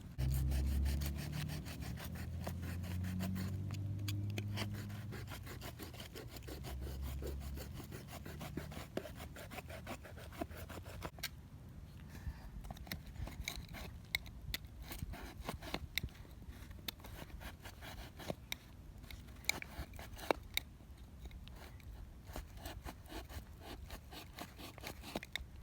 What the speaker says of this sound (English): So what you do is you cut off the top 4 inches. So I'm going to slice all the way around.